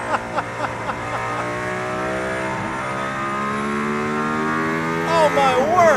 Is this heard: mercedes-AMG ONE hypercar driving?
yes